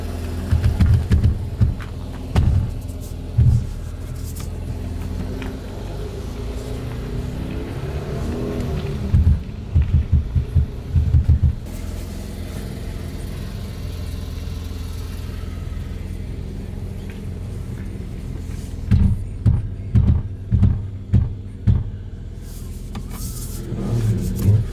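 A Mercedes C43 4MATIC pulls out of a driveway in freezing conditions, with a steady low engine rumble and repeated bursts of heavy throbbing judder from the drivetrain crabbing, clustered near the start, middle and end.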